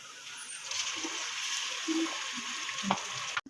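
Steady sizzling of green chillies and other ingredients being sautéed in a pan for a pumpkin and egg dish, broadband hiss holding throughout with occasional faint stirring clicks, close and alone.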